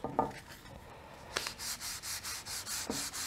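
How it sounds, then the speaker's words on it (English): A wooden 1903A3 rifle stock being sanded with boiled linseed oil over stain: a brief rub, then a run of even, rhythmic back-and-forth sanding strokes, close and alone. "I'm going to sand this in."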